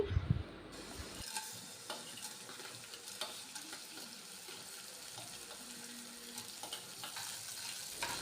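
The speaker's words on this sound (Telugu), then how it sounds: "ఆయిల్ హీట్ అయ్యాక ఆవాలు, మినపప్పు, శనగపప్పు వేసుకోవాలండి" Mustard seeds, urad dal and chana dal hit hot oil with a brief loud crackle at the start, then settle into a steady, fairly quiet sizzle with faint stirring scrapes and no voices.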